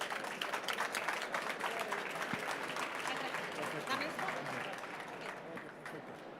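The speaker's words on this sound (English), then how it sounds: "One big applause for them." Audience applause at a BBVA tech event, broad crowd clapping that holds steady and slowly eases toward the end, with some voices mixed in underneath.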